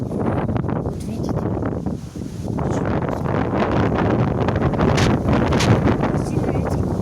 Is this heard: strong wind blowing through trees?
yes